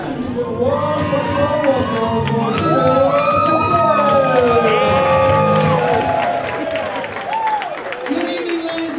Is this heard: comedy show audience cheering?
yes